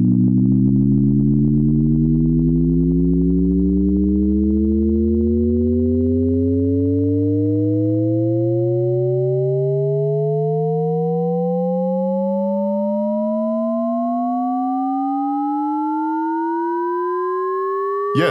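A steady synthesizer oscillator tone with buzzy harmonics, controlled by an Arduino in a DIY Eurorack setup, glides slowly and evenly upward in pitch, alone and sustained, ending with a brief click.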